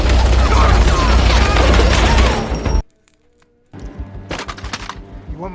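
Film gunfire scene with a dense burst of loud close shots and cracks, a sudden silence, then further sharp impacts and shots, with a voice partly mixed in.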